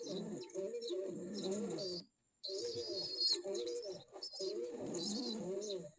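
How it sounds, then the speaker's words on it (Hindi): Pet pigeons cooing close by in repeated low, throaty rolling bursts, with a short pause partway through and no talking over them. "लेकिन इससे पहले मैं सुनाती हूँ आपको कबूतरों की आवाज़,"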